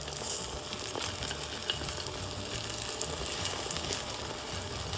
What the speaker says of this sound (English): take a spatula and just move that cooked edge